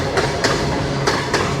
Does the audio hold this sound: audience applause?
no